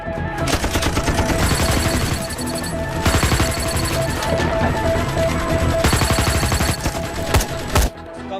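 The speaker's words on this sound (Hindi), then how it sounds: "हम तो फायरिंग कर रहे हैं सर।" Rapid bursts of gunfire in a Hindi-dubbed action film scene, dense and loud, with two sustained volleys separated by brief pauses and ending in a sharp final shot, layered over a background score.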